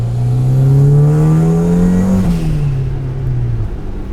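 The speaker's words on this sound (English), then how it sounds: "The induction noise is a little bit louder now too" A turbocharged Mazda Miata with a custom exhaust roars loudly up close with a rising induction whine, then the pitch drops and settles as the revs fall off.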